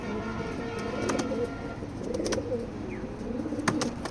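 Racing pigeons coo softly in a loft, low repeated throaty calls with scattered chirps and light clicks over a steady background hum.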